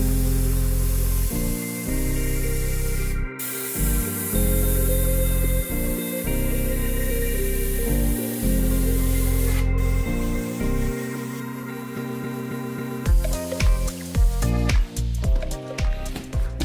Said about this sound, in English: I load the color in spray guns